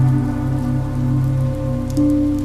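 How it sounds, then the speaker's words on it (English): Soft rain taps steadily against the windows of a quiet bar, a gentle continuous patter over a sustained low tonal hum. "The rain is softly tapping against the windows, like it's having a little conversation with the glass."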